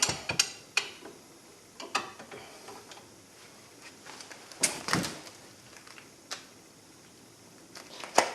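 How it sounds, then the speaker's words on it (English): A hand wrench torques the brake caliper bolts on a 2016 Kia Sorento's front brakes, giving sharp metallic ratcheting clicks at an uneven pace, with several louder clanks among steady softer ticks in a quiet garage. "now we'll get our wrench and just torque them down"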